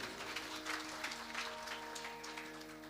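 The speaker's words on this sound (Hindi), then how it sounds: "एक बार तालियों के द्वारा श्री आयुष कृष्ण नयन जी का स्वागत करें" An audience applauds to welcome a speaker at a religious birthday gathering, steady clapping throughout, fairly faint, over a humming sound system.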